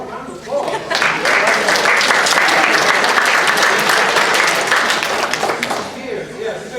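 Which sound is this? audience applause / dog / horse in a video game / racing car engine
audience applause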